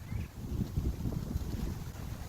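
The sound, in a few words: wind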